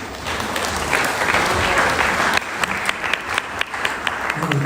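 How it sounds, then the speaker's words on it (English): Warm applause fills an anniversary gathering of devotees, dense and continuous at first, then thinning into scattered individual claps that stand out near the end. "Please give a big round of applause."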